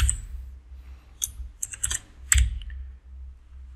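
Keys clatter on a computer keyboard in short irregular bursts of clicks, fairly close, with low background hum between them.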